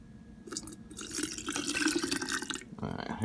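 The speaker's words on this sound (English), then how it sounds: "Now I'll add the water. As I fill this to the top, I'm going to use my funnel here." Water poured through a funnel into a cup, a soft trickling and splashing pour that builds and gurgles for a few seconds before a brief change near the end, fairly close and quiet.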